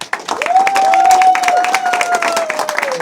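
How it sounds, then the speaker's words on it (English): Crowd applause at a media school graduation ceremony, dense clapping throughout under a sustained tone and faint voices, fairly loud and continuous. "So let's give them another clap."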